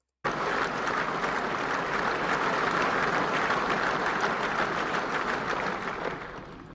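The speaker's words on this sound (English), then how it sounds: "They were listening to Brezhnev and then supposed to clap at a certain time." Sustained applause from a large audience at a Soviet Communist Party meeting for Brezhnev, a dense, even wall of clapping that starts abruptly and holds steady before tapering slightly at the end.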